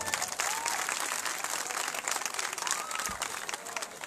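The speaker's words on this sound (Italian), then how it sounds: "facciamo l'applauso a loro" Audience applause at an outdoor summer singing contest, a dense, steady clapping from a crowd that holds evenly for several seconds at moderate distance.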